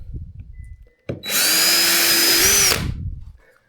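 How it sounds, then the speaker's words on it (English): A power drill whirs loudly and steadily for about a second and a half, drilling into an Old Town Malibu PDL kayak, then winds down, with quiet handling sounds before and after. "Get your drill, and you go ahead and drill that spot."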